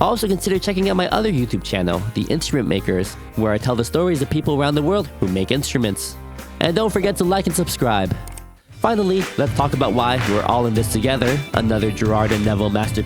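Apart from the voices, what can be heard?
No everyday noise stands out behind the speech.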